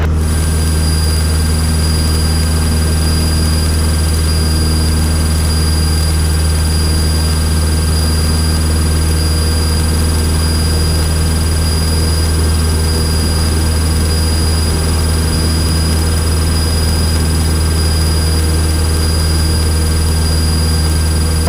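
A Cessna propeller airplane flying the downwind leg of the pattern at Apple Valley, its engine droning loud and steady from inside the cabin, with a constant low rumble and a few fixed whining tones throughout and no speech.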